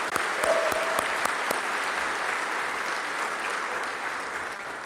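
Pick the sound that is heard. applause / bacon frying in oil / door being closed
applause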